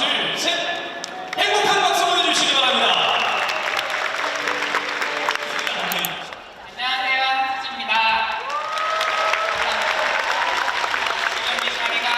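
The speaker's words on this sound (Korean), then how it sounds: "다 함께 따뜻한 박수 보내주세요." Warm, sustained audience applause fills an arena at a volleyball player's retirement ceremony, steady and dense throughout, with an announcer's voice over the clapping and a brief dip before it swells again.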